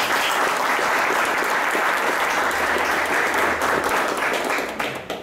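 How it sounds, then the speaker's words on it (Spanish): Audience applause at the Expo Santa Rita 2017 business event, a loud, dense burst of crowd clapping that holds steady for about five seconds before starting to taper at the end. "un aplauso para ellos"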